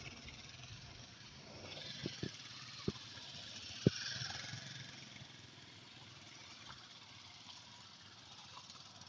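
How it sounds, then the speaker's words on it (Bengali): Motorbikes pass by on a road in Meghalaya, making a steady, fairly distant engine drone with a few sharp clicks and knocks near the middle. "এখানে পেছনে দেখো কত বাইক কাটছে।"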